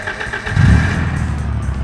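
An Autobello Aria car engine in the BeamNG driving game cranks and catches, firing into a loud, close idle that settles into a steady rumble, with no talking over it.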